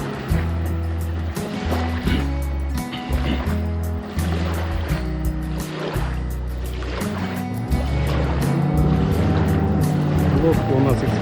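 An experimental motorboat with 9.8 and 18 hp outboard motors drones steadily in shallow water with rhythmic low thumping, water sloshing around it, and a voice talking intermittently over the noise.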